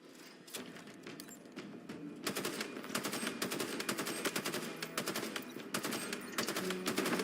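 Rapid, dense bursts of video game gunfire rattle on continuously at close range, with sustained machine-gun volleys layered over one another and growing slightly louder throughout.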